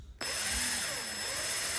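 A power drill cutting through plastic whirs steadily as the bit bites in, a continuous close grinding with slight shifts in pitch.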